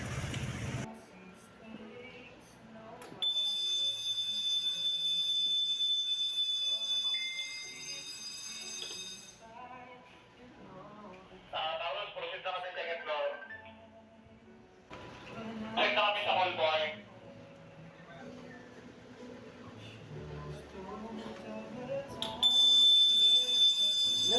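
A newly installed fire alarm being tested sounds in stretches with a sustained high-pitched tone, alternating with rapid buzzing bursts, while people talk quietly in between.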